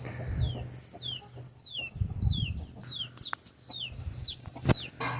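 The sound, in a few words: Aseel (Abras) roosters and double-body hens clucking on a farm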